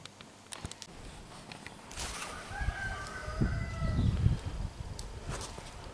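Roosters crow faintly in the distance, a couple of drawn-out calls amid outdoor rustling and scattered clicks.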